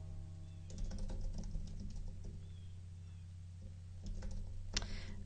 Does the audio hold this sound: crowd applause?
no